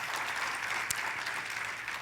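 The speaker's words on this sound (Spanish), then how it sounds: "Denle un fuerte aplauso al Señor." A church congregation applauds in a dense, steady wash of clapping that stays at an even level throughout, with one sharp louder clap standing out near the middle.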